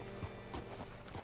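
Horse hooves clip-clop in a brief, steady rhythm from Red Dead Redemption 2, three or four quick hoofbeats heard fairly faintly over a soft background bed.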